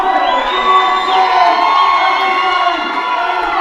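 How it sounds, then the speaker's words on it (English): A crowd at weightlifting nationals cheers and shouts steadily and loudly for a lifter stepping up to the platform, with whoops rising out of a continuous roar. "She's getting the crowd riled up"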